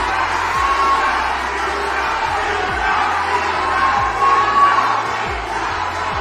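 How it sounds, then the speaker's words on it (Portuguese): Crowd at the Miss Universo Brasil 2022 pageant cheers and shouts continuously, a dense roar of voices with whoops rising and falling over a low rumbling hall background. "eu quero ouvir a torcida aqui"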